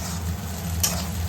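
Egg fried rice frying in a pan at home, a low steady sizzle with faint stirring and scraping throughout, close by and moderately quiet.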